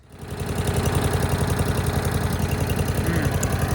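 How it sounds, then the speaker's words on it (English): A Toro lawnmower running on a newly swapped small engine idles low and steady, a close, loud, rapid regular thumping pulse that rises quickly at the start and then holds even. "I love how low this thing idles."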